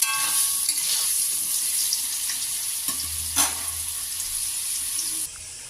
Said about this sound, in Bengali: দিয়ে আমি আলুগুলো ভেজে নেব